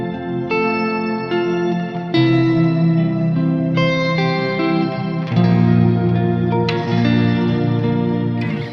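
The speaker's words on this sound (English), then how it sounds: "Have access to sounds like a double octave shimmer like this?" Electric guitar chords played through a reverb pedal set to a double octave shimmer, ringing with bright high octave layers above sustained low notes, with a dense wash of continuous reverb and no talking.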